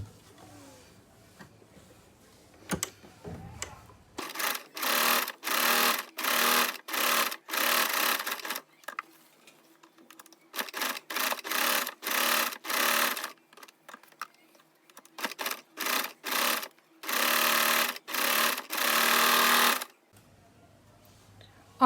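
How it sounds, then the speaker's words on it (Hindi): A sewing machine stitches fabric for a trouser pattern in repeated bursts of rapid whirring, each run lasting about a second or two and separated by short pauses, with quiet handling noises in between. "अब हम सबसे पहले इस पैटर्न के तीनों साइड इसी तरह से सिलाई लगा लेंगे।"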